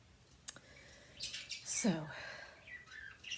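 Pet birds in a home give a few quick chirps and a squawk-like call, fairly close but modest in level, with brief clicks and a single spoken word nearby.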